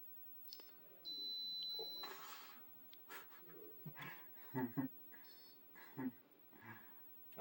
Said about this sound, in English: every time the ball bounces off a paddle or a player, it's this little short beep